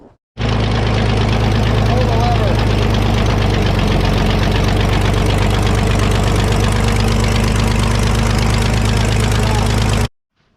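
A New Idea Uni System farm power unit's engine runs steadily at close range, a loud continuous idle with a knocking throb that holds without a break from start to finish.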